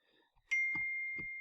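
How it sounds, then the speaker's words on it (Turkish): A social media app notification on a computer gives a single clear chime that rings out and decays slowly, with a couple of soft clicks around it against near silence. "çok özür dilerim bildirimlerimi kapatmayı unutmuşum"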